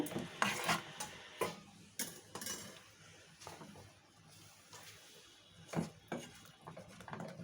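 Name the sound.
stirring boiled papaya with mustard seeds and dried chilli in pan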